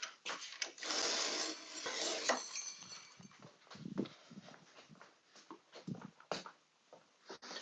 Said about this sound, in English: I'm going to walk over to my machine and I'm going to skive that really quick here.